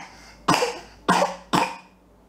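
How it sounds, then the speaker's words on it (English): Three raspy coughs in quick succession, close and fairly loud, with short pauses between them and no talking. "There's that cough I was just talking about."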